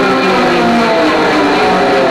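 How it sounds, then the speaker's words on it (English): A pick scrapes slowly along the wound strings of an electric guitar, angled into the windings, giving a loud, continuous raspy roar with no talking over it. "all I'm doing is pick scraping"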